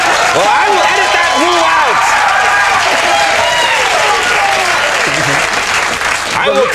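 Late-night television studio audience lets out whoops and shouts over sustained loud applause, with clapping and cheering that hold steady before tapering slightly near the end.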